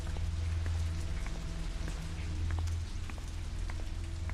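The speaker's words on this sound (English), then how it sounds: "Still hear the rain, but it sounds like it's outside." Steady rain patters outside in the horror video game Shadow Corridor 2, a constant wash of drops over a low droning hum, with no talking.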